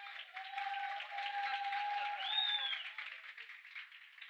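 An audience at an event in Teresópolis claps and cheers for a speaker, steady applause throughout with a whistle or shout rising midway.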